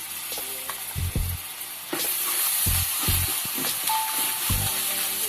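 Ginger garlic paste sizzles in hot oil with onions, curry leaves and green chillies, a steady close frying hiss that swells loudly as the paste hits the pan, with occasional stirring scrapes.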